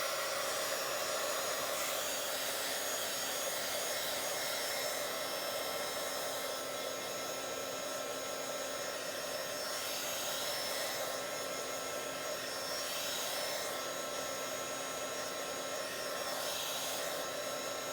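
Hair dryer blowing steadily on a Bible journaling page, a loud continuous whooshing roar with a constant motor whine that runs unbroken throughout, alone with no talking.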